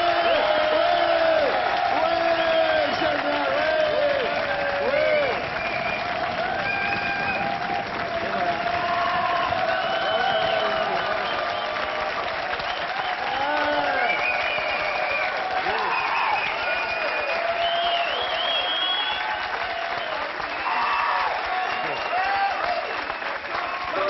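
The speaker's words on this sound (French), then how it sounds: "c'est d'applaudir très très très fort Natacha" A studio audience applauding loudly for Natacha Amal, a long sustained roar of clapping with scattered cheers and whoops, while voices talk over it throughout.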